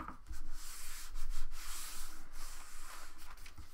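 Close, steady rubbing of a hand over glued collage paper pressed onto a journal page, soft brushing strokes repeating in an even rhythm for several seconds without talk.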